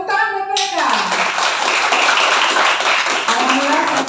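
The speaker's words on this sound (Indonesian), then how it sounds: "Tepuk tangan buat mereka." Audience clapping and applause at a Madihin traditional performance event in Banjarmasin, a loud, dense burst of many hands that follows a brief voice at the start and stays steady to the end.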